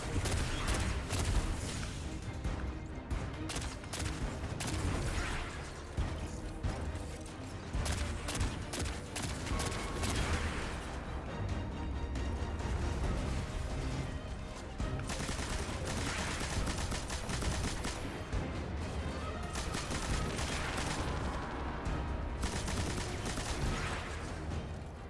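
Sustained rapid gunfire in Destiny 2: Edge of Fate, with dense overlapping bursts of automatic fire and booming shots running loud and continuous throughout.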